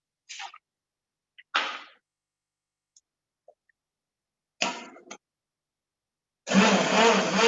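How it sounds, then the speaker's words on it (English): Short bursts from a handheld wand blender puree soft cooked potatoes into a soup, a few brief pulses and then a sustained whirring run at the end, close by and with no talk. "I'm going to use a wand blender."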